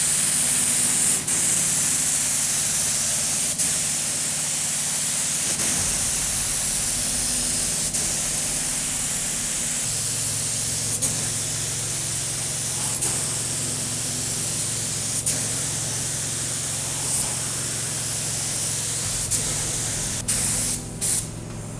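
Spray gun laying a budget Raptor-style textured coating onto a ute, a loud steady hiss of spraying that runs almost continuously for over twenty seconds, with short breaks and small clicks, no talk.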